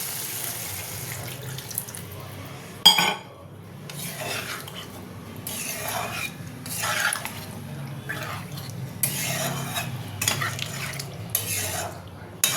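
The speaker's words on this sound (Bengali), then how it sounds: "এবার আমি এর মধ্যে জল দিয়ে দেবো" Water splashing into a pot of partly boiled potatoes in intermittent bursts, mixed with light clatter and stirring of utensils, fairly quiet and close.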